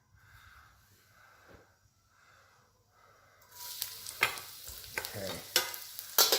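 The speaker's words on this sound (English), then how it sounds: "we just want to saute the garlic" Chopped garlic sautéing in a little oil in a pan breaks into a loud, close sizzle partway through, with scraping stirs from a spatula and a brief spoken word near the start.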